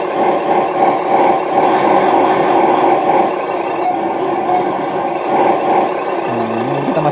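Motor of a radio-controlled Hino dump truck running: a loud, steady electric-mechanical whine and hum, close and continuous, with a brief rising tone near the end.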